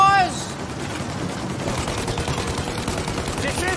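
Rapid gunfire aimed at the engines of a plane in the video game Mafia: Definitive Edition, a dense, continuous burst of rattling shots, with a brief voice at the start.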